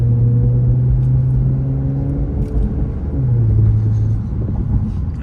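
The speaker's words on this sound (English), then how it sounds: "I'm not sure what kind of aftermarket exhaust is on this thing. This is way louder than it normally is." A 2021 Infiniti Q50 Red Sport 400 fitted with an aftermarket exhaust holds a loud, steady, close engine drone that eases briefly and then settles back to a sustained rumble, with no talk over it.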